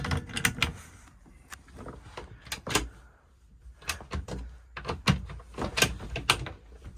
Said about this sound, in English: Concertina door